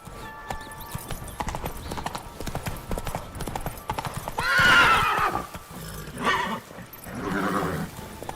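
A horse in The Witcher 3 gallops with a steady, close clip-clop of hooves, then gives several loud neighs and whinnies toward the end.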